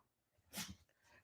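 A single quick dog sneeze, close and faint, a short sharp burst of breath in a quiet indoor room.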